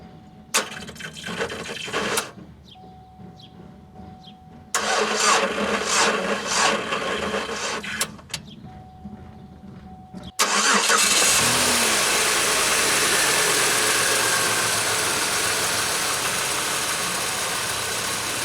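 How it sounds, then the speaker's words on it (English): Car with a faulty starter, several short bursts of cranking separated by pauses before the engine catches and settles into a steady, loud idle that runs on to the end. "let's try to start it, and you guys can hear for yourselves exactly what it's been doing"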